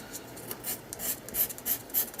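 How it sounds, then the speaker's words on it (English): An emery board rubs over craft cardstock branches on a handmade thank-you card, a quick series of about eight light, rhythmic rasping strokes, close up and alone. "sand those branches a little bit"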